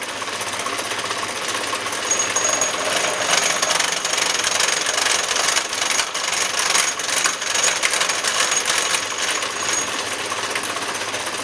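Gear cutting machine cutting a gear, feed reduced to ten thousandths of an inch near the bottom of the cut, giving a steady dense metallic grinding and chattering drone that runs continuously and loudly without pause.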